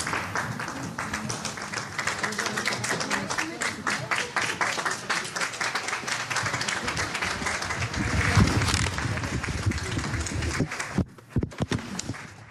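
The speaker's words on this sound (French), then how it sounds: "Des applaudissements pour la sortie de l'actrice" Crowd outside a courthouse applauds as the actress Adèle Haenel leaves the hearing, a dense, continuous patter of many hands kept up for several seconds with a fuller swell of crowd noise, then breaking into a few scattered claps at the end.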